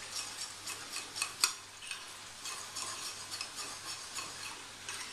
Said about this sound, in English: I mix it again.